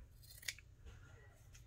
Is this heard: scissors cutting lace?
yes